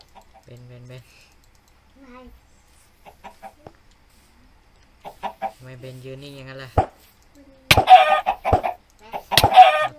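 Blocky Minecraft chickens cluck in short sharp bursts near the end, on the Wynncraft server, following quiet game sounds while a voice speaks Thai in the middle.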